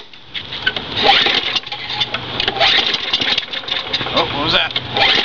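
An old free lawn mower engine with a plugged carburetor sputters and tries to catch, with uneven bursts of rough, close combustion noise, while someone talks over it.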